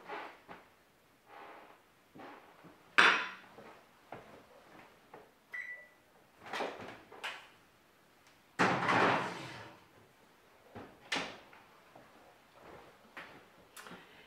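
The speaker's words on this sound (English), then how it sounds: "I'll put this into the oven now." A baking dish of baked beans goes into a kitchen oven, with a few separate knocks and clunks of the dish and the oven door closing, plus quieter handling noises in between.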